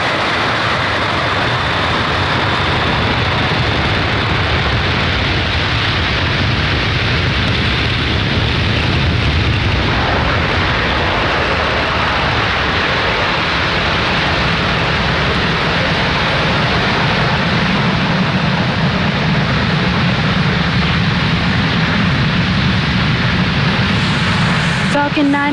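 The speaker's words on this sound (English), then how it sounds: "Falcon 9 has successfully lifted off from pad 40" A SpaceX Falcon 9 rocket lifts off from pad 40 at Cape Canaveral, a continuous, loud, broadband roar that crackles steadily throughout without letting up.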